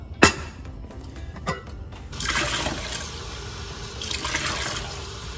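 Water is poured from a tap into a saucepan to cook quinoa for a spicy chicken and vegetable stir fry. A sharp knock comes first, followed by two rushing bursts of running water, close by and fairly loud.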